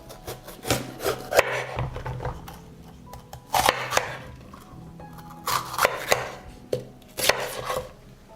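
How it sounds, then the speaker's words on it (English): A knife chops a pepper on a wooden board in repeated clusters of sharp, close knocks separated by brief pauses, with some rubbing and scraping along the board in between. "I chop the pepper."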